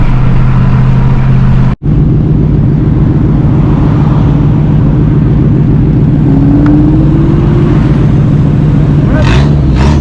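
A BMW M550i driving hard on a highway, its steady engine drone and road roar loud and continuous, with a brief dropout near the start and a rising tone later; people talk over it.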